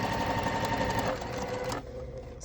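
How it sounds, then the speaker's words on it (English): A sewing machine stitches fabric in a close, rapid, whirring hum that holds steady, then slows and softens toward the end as the needle stops. "So what I'm doing is just sewing from pin to pin."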